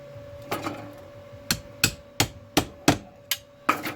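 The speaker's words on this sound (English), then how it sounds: "I'll just hammer it in" A hammer strikes repeatedly in an uneven rhythm, about ten sharp ringing blows on metal during a Mk V Ford Cortina body restoration, close by with no talking.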